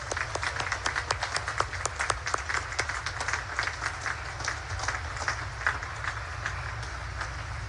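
A large crowd claps in sustained, dense applause for mentors at a Naval Academy commencement ceremony, broad and steady throughout, with a low rumble beneath it.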